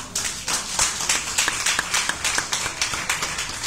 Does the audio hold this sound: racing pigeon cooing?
no